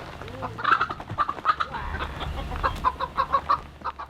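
Chickens roaming an apple farm cluck in short, repeated calls close by, a few birds overlapping against a low outdoor rumble.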